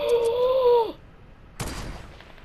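Gunfire in the video game Fortnite: a burst of shots with a tonal whine, then a sharp blast after a short gap, loud and close.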